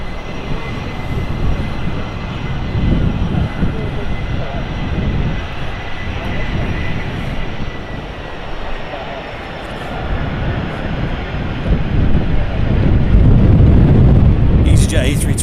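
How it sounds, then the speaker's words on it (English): An EasyJet Airbus A320 jet airliner on runway 23 right at Manchester Airport gives a broad, steady jet roar that swells toward the end, heard at a distance alongside wind noise. "EasyJet A320 just stopping here on 23 right."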